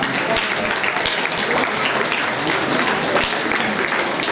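An audience at a student felicitation ceremony in Aurangabad applauds in a continuous, dense clatter of many hands, steady and fairly loud from start to finish.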